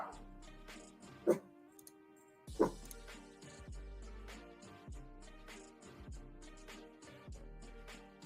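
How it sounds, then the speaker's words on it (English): A dog barks twice in sharp bursts, then quieter background music with a steady beat continues while the dog is no longer clearly heard. "Just checking what the dog is barking at."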